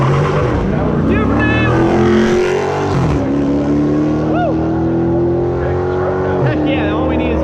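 Two Dodge cars race at Music City Raceway, their engines roaring loudly up close, pitch climbing steadily under hard acceleration as they run side by side, with a fresh surge of revving near the end.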